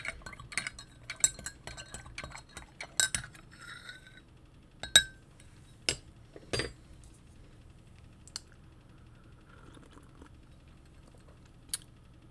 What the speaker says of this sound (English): Let me stir it up